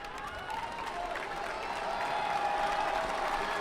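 A judo arena crowd at the 2019 Montreal Grand Prix cheers and applauds for Valois-Fortier, a dense, sustained roar of many voices that swells slightly toward the end, with no distinct speech.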